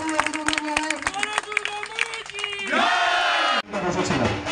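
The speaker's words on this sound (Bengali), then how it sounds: "সকলে একটু হাততালি অভিনন্দন জানাই" Audience at a Durga Puja pandal inauguration in Titagarh ward 15 cheers and claps together in a loud crowd burst that swells, cuts off abruptly, then resumes.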